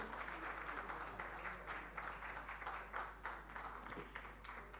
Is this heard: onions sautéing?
no